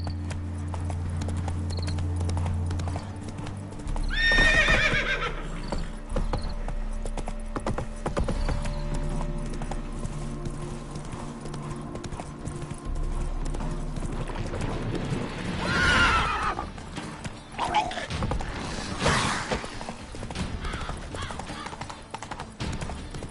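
Roach, the horse in The Witcher 3, gallops with quick clip-clopping hooves and lets out loud whinnies near the start and again around the middle, over a steady game soundscape.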